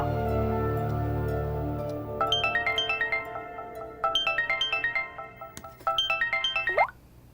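A phone ringtone plays an incoming-call melody in three repeated bursts of bright rising notes, loud and close, after a low sustained tone at the start; no one speaks.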